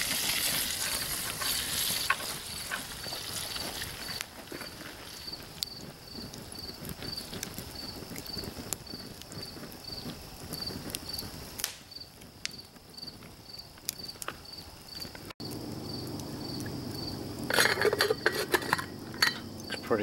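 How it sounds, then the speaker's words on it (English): Burger meat cooking in a Mors Bushpot is stirred with a utensil, giving faint scraping and clinking over a steady sizzle that runs through the whole stretch, with a brief louder clatter near the end. "I'm gonna go check the burger, give it a stir."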